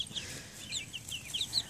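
Soft, scattered clucks and chirps from a young rooster, about seven weeks old, in an outdoor chicken play yard, repeating in short bursts at moderate distance with no talking.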